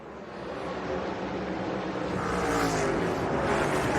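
NASCAR stock cars, including Christopher Bell's Toyota Camry, race on a dirt track during a qualifying heat, a loud continuous engine roar building steadily with cars rushing past.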